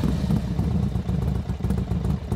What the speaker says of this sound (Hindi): तभी बाहर से बाइक की आवाज़ आई